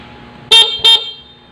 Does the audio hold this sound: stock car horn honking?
yes